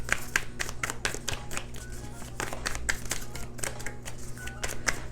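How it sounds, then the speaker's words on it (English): Tarot cards being shuffled by hand, a rapid series of crisp riffling clicks and flutters repeating steadily over a low, continuous room hum. "I think I need to shuffle really quick, guys."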